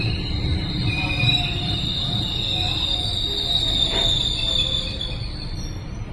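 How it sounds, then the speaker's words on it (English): A GO Transit double-decker commuter train rolls past close by, its wheels squealing in a high, sustained whine over a steady low rumble for the whole stretch, loud and continuous with no voices. "then took some shots of the Go train itself"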